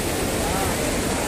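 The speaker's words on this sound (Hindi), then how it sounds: "देखिए दोस्तों एकदम झरना बह रहा" A waterfall flows beside the Rajrappa temple, a shrine site, as a close, steady roar of rushing water, broad and unbroken across the short moment.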